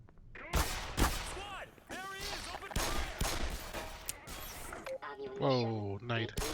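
A grenade explosion in the video game Black Mesa, sharp blasts and crashing impacts amid gunfire, with someone talking and exclaiming loudly over the noise.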